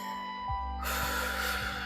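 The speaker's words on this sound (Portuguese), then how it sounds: "Toma uma respiração profunda." A single deep breath drawn in during a calm guided meditation, a soft breathy inhale swelling to a long airy rush that lasts over a second, close and quiet over a low steady hum.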